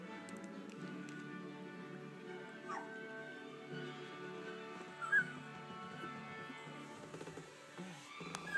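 Two-week-old British Labrador puppies whimper and yip softly in high, thin cries, close by, with occasional small taps and rustles.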